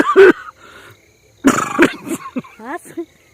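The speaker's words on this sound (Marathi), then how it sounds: "मला खोकला आलेला आहे" A person coughs in a few short, harsh bursts, close to the microphone, with brief voiced sounds between them.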